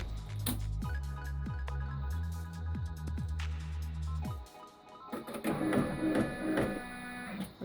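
An embroidery machine runs a placement stitch on fabric for a trifold zipper pouch key chain wallet, giving a steady close whirring drone with rhythmic stitch pulses, then it stops and is followed by a burst of handling clatter.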